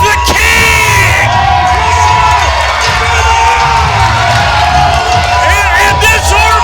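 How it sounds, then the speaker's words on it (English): A wrestling crowd roars and cheers for Manny Rolo in an arena, loud, dense shouting and whooping that holds steady throughout, with an announcer's voice over it. "this Orville crowd finally showing appreciation for the last king of professional wrestling, Manny Rolo"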